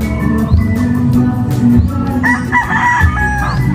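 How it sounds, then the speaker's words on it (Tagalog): A rooster crows loudly and up close, its rising call repeating amid a busy farmyard of many clucking chickens. "Daming manok."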